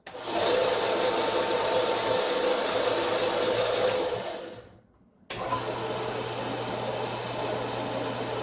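A Jet J-4002 bench 1x42-inch belt and 8-inch disc sander motor runs with a loud steady hum, winds down into a brief near-silence, then starts up again and keeps running.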